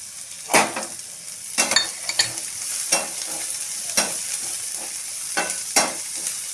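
Capsicum slices stir-fried for Schezwan noodles, a constant sizzle broken by repeated scraping strokes of a spatula and metallic clanks against the pan at a regular pace, close by with no talk.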